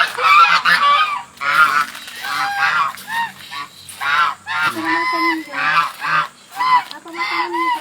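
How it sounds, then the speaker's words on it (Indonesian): Geese at a zoo honk repeatedly in loud, close, overlapping bursts that keep coming in an uneven rhythm. "Angsa."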